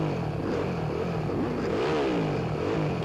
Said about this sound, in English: Dead engine start.